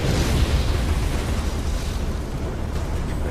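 A fire-breathing boss in Alice: Madness Returns lets out a loud, continuous roaring burst of flame, a broad rumbling whoosh that starts strong and tapers slightly, with no talk.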